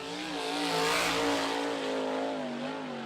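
A USAC sprint car on the Bushnell, Florida speedway, its Fatback Racing engine in a Maxo chassis, roars loudly and steadily at high revs through a lap, the pitch wavering slightly as the throttle shifts, with no voices over it.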